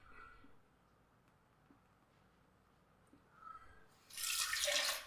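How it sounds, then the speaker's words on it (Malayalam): Blended small-banana drink pours from a mixer jar into a bowl with a bright, splashy rush near the end, after a quiet stretch with faint trickling. "ഒരു ബൗളിലേക്ക് നമുക്കത് ഒഴിച്ചു കൊടുക്കാം"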